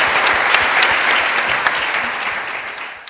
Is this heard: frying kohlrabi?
no